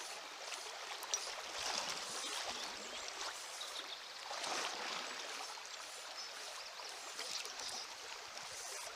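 Fast-flowing river water on a trout stream rushes in a steady, close broadband wash with surging swells, continuing alone without any voices.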